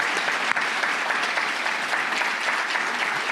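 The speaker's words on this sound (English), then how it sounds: "if everybody could, round of applause to thank Charles" Steady, dense round of audience applause at an awards ceremony for a biodiversity conference, sustained and even throughout, filling the room at a consistent loudness.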